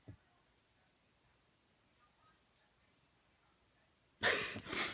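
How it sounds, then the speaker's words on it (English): After near silence, a single loud sneeze bursts out close to the mic, followed by a short breathy tail. "I got a sneeze coming."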